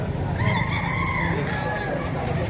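A rooster crows once at a chicken market in Padre Garcia, Batangas, its drawn-out call fairly near over a busy murmur of people talking.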